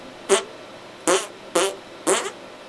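A voice imitates farts, four short buzzy blasts spaced about half a second to a second apart, each loud and brief against near silence.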